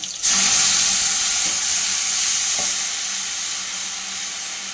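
Tomato rasam splashes into a hot pan with a sudden loud hiss that settles into a steady bubbling sizzle, close by, with a couple of faint clinks.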